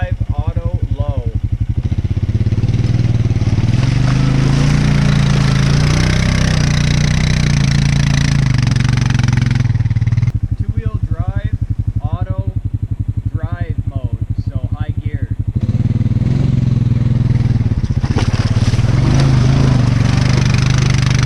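A Honda Rubicon DCT ATV engine runs in low mode with a steady low, throbbing drone throughout, loud and close, while someone talks over it in stretches.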